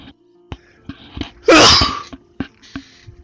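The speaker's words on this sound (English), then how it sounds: "Ah, yes, sneezing, that's always fun." A single loud, close sneeze bursts out amid quiet clicks and taps before and after it.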